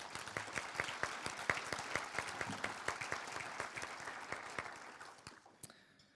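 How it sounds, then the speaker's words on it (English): Audience applause for the Salem Chamber's past presidents at a business gathering: a room of clapping hands with distinct individual claps, steady for about five seconds before quickly thinning out and stopping. "We'll give them a round of applause,"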